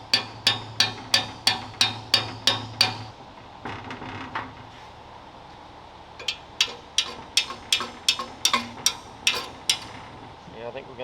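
A spanner gently tapped onto a seized bolt on a WWII Panzer II machine-gun mount, a quick series of sharp metallic taps, a pause with quiet handling sounds, then another run of steady taps, close and clear.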